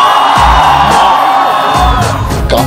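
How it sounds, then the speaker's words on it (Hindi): A large crowd at a Bhool Bhulaiyaa 2 film trailer launch cheers and shouts continuously, loud and dense, with whoops rising above the roar throughout. "थोड़ा और चिल्लाओ यार।"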